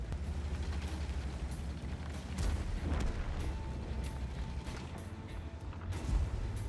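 Tank cannon shots in a video game land as a few heavy booming blasts over a continuous rumbling engine and battlefield background.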